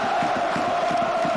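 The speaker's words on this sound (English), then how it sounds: "Everybody clapping the whole time." FC Porto ultras filling a stadium with rhythmic unison clapping, about six claps a second over a continuous roaring chant, loud and crowded, with no one speaking.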